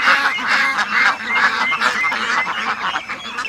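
A flock of black ducks gathered together quacks and honks loudly and close by, their overlapping calls crowding over one another without a break.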